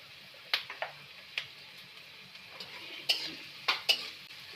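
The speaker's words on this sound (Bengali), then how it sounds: "পেঁয়াজটা একটু ভাজা ভাজা হবে" Onion frying in a pan for chicken soup: a quiet low sizzle underneath, punctuated by several sharp clinks and scrapes of a spatula stirring against the pan.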